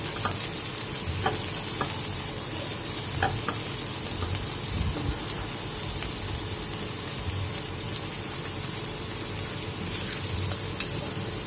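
Ingredients sautéing in hot oil produce a continuous, even sizzle with fine popping crackles, steady and fairly loud, and now and then a faint clink of a utensil stirring the pan.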